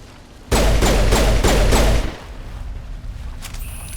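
Heavy weapon in Mass Effect 1 Legendary Edition firing a rapid burst of about five loud, booming shots over roughly a second and a half, then cutting off into quieter game ambience.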